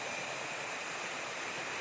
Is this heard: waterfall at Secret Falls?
yes